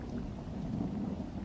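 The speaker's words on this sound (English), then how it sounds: "They're real big on the thunder and rain sounds." Rolling thunder and steady rain from an album track form a low, continuous rumble with a soft patter on top, moderately quiet and without voices.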